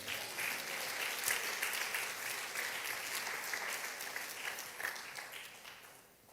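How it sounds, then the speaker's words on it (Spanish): A church congregation claps together during a worship service, a full even wash of applause that holds steady and then tapers off, with no talk over it. "Un aplauso para el Señor."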